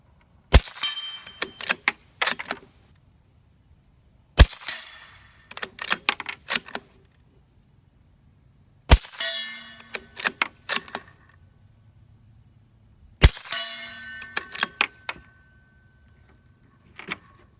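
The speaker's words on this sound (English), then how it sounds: "Now I'll shoot some steel so you can hear the difference." Shots from a custom-built 300 Blackout bolt-action rifle ring off steel targets, four loud sharp cracks spaced several seconds apart, each followed by a quick cluster of metallic pings and clanks, with no talking.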